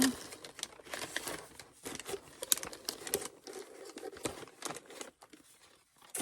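Paper scrapbooking advent calendar envelopes rustle and crinkle as they are rummaged through, a busy close run of papery crumpling and shuffling, fairly quiet, without talk.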